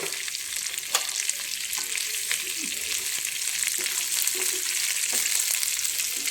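Sesame seeds frying in a pan make a steady, crackling sizzle, with light scraping and stirring strokes of a utensil at intervals, close and continuous without talk.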